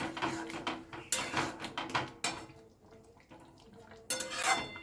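A lid clatters onto a cooking pot holding a paneer dish with cashew paste, giving several sharp metallic clanks and rattles at close range amid softer kitchen clatter, with no talking.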